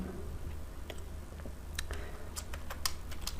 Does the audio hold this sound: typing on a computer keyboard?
yes